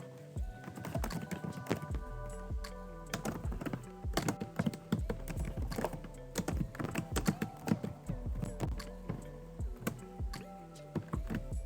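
Haskell code typed on a computer keyboard, a steady stream of close, crisp key clicks in irregular bursts, with occasional heavier thumps of the spacebar.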